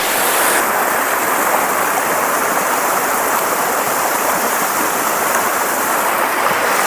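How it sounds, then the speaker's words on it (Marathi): A waterfall and its stream in the Konkan during heavy monsoon rain rush with a loud, constant, unbroken roar of water, close by and alone, with no voices. "चला हा आपला गवळ्याचा धबधबा"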